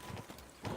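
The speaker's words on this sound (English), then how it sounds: "Pebbles, you're a terrible horse" Horse hooves clip-clop in the medieval video game Kingdom Come: Deliverance II, a few quick, faint hoofbeats in a short burst over soft background noise.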